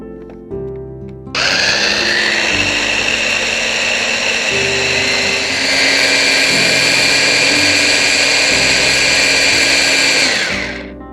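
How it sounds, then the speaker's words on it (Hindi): An electric blender whips eggs with powdered sugar until fluffy, starting with a click and then a loud steady high whine that shifts pitch slightly midway, running about ten seconds before stopping. "ब्लेंड कर लेंगे"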